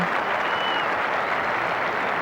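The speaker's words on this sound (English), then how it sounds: "Crowd had waited for some sort of applause to give to an England batsman this morning, and Hemmings has just got it." A crowd at an England versus India Test cricket match at Old Trafford in 1990 applauds an England batsman, with dense, steady clapping from many hands all the way through.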